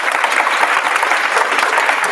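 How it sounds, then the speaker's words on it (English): Audience at a MediaTechWomen 2024 event giving a loud round of applause, dense continuous clapping from many people close by, sustained throughout with no voices over it. "If you could please give a round of applause."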